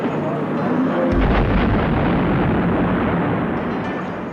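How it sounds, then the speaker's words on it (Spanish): A cannon shot hits the facade of the Palace of Justice during a hostage siege, a loud heavy boom rising out of dense roaring rumble and noise that stays thick for several seconds. "¿por qué le disparan un cañonazo al frontis del palacio?"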